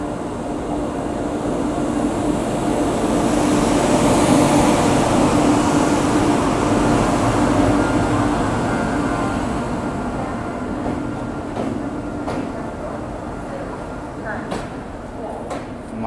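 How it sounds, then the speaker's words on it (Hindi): The Maa Bodhi Express, a New Delhi to Gaya train hauled by a WAP7 electric locomotive, passes as a loud sustained rumble and rush that swells and slowly fades, with a few sharp clicks toward the end. "डेडिकेटेड ट्रेन माँ बोधी एक्सप्रेस। WAP7 locomotive"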